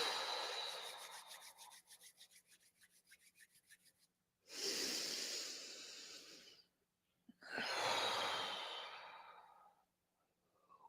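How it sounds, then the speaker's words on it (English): Deep breathing close to the mic, a long drawn inhale through the nose followed by two slow, airy exhales blown out through the mouth, separated by quiet pauses. "Deep inhale through the nose, exhale through the mouth, blow it out."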